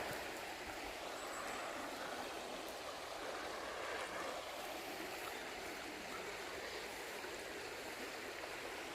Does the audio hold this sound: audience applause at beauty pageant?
no